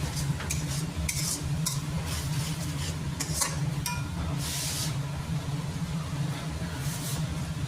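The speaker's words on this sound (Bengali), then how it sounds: "দেখুন যতক্ষণ তেল না উঠে যাবে ততক্ষণ ধরে আমি কষিয়ে যাবো।" Chicken rice masala sautéing in oil, a dense continuous frying sizzle with repeated spoon scrapes and knocks against the pan as it is stirred.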